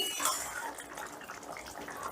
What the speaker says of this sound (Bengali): এবারে নুন আর চিনিটাকে বেশ ভালো করে ডালের সাথে মিশিয়ে দেব।